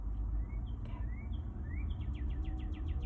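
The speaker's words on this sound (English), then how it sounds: "All right, so you guys hear the birds." Birds calling outdoors: a few short rising chirps, then a quick run of repeated tweets near the end, all over a steady low rumble of background noise.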